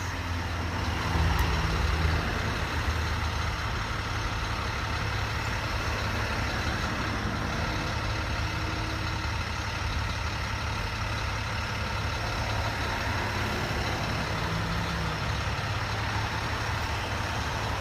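A large diesel school bus engine idles with a steady low rumble for a long stretch, close by and unchanging, with no voices.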